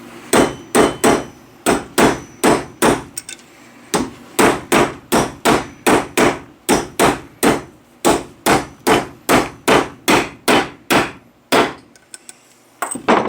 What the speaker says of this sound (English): whether you do it with a press or hammer it in, don't hit the center of the bearing